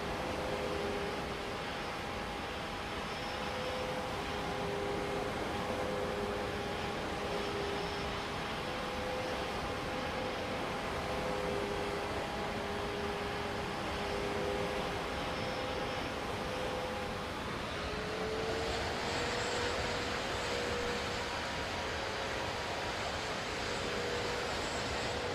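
An Airbus A320 landing in Microsoft Flight Simulator 2024: a continuous jet engine drone with steady whining tones over a broad rushing wash, shifting pitch and brightening near the end.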